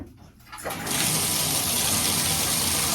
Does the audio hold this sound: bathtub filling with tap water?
yes